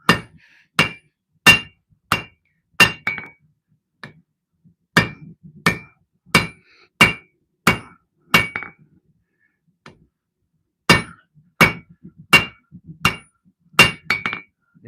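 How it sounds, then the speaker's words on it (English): A hammer rings sharply against a heavy piece of steel being forged into a custom knife, striking in brisk, evenly spaced bursts of four to six blows separated by short pauses. The blows are loud and close, with no talking. "Take the flat part of our hammer."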